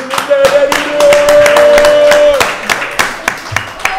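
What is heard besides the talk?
audience applause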